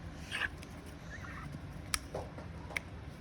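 Rhode Island Red and Black Australorp chickens making a few faint clucks and short squawks, with sharp clicks and quiet background noise in between.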